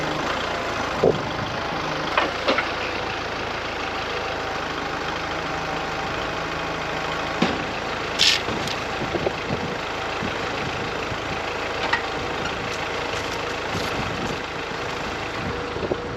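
A tractor engine idles steadily at moderate distance with 1,200 pounds of ballast on the back, a continuous low rumble with a few brief clanks and knocks along the way.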